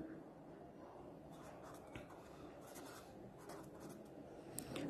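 A pen scratching across paper as someone writes out genetics notes by hand, a soft, steady scraping that carries on throughout, quiet and close.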